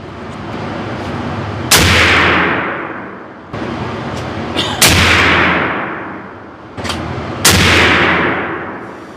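Three loud, close rifle shots from a Seekins Havak PH2 fired with hand-loaded N570 rounds at a 100-yard range, each a sharp crack followed by a long rolling echo, evenly spaced a few seconds apart.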